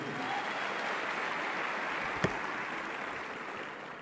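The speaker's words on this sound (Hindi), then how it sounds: "एक बार जोरदार तालियां मेरे बड़े भैया के लिए" Loud, steady applause from an audience in an auditorium at a ceremony honouring an Additional District Magistrate from Jharkhand, a dense continuous wash of clapping with one sharp clap standing out near the middle.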